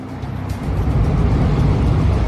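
A car engine drives with a continuous low rumble and road roar, steady and fairly loud throughout with no voices.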